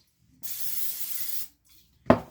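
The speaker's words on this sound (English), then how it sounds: "I am going to give it a quick spray." A single one-second hiss of cooking oil spray into an air fryer basket with a copper non-stick coating, close and steady, followed by a brief clunk shortly after.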